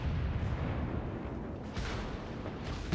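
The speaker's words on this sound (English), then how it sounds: "So my secondaries are also firing at him" In World of Warships, naval secondary guns fire repeatedly, a dense rumble of heavy booms with periodic sharper blasts layered over constant battle noise.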